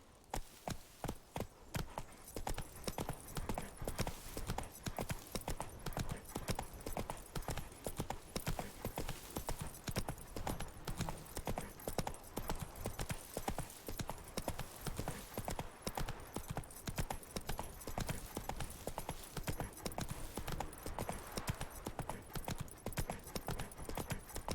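The horse Roach trotting in The Witcher 3, a rapid, steady clip-clop of hooves repeating for the whole stretch at moderate loudness, with occasional faint snorts.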